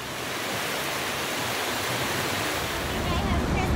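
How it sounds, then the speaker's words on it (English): Running water rushing steadily outdoors, a broad, loud, continuous wash that swells slightly toward the end. "I hear water."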